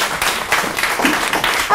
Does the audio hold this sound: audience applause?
yes